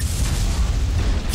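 An explosion in the game Bioshock: a loud, rumbling, low blast that fills the moment with a heavy, steady roar.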